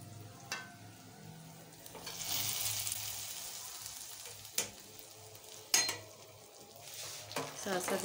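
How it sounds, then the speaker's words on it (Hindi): Pakoras are stirred into a pot of thickening kadhi with a spoon: soft bubbling and sizzle, a couple of sharp metallic clinks of the spoon against the pot, and scraping strokes at close range. "साथ साथ इसको चम्मच चलाऊंगी ताकि ये अब कढ़ी में पके"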